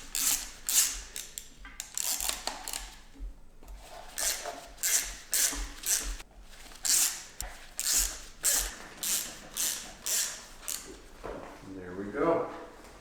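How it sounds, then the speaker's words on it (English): A Torx T30 bit cracking loose the engine cover bolts on a Volvo 740 T5 engine, giving a rhythmic series of sharp ratcheting clicks and metallic snaps in quick bursts, close by, with someone speaking briefly near the end. "We're just going to take a Torx T30 and we're going to crack all of these loose."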